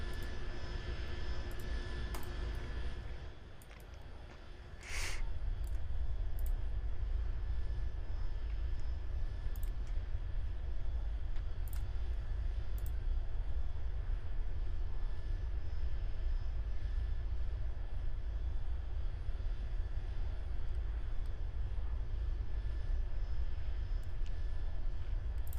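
Steady, continuous engine drone of a game aircraft in Aeronautica approaching runway 27, holding loud and even throughout, with a brief dip early on and a few faint clicks.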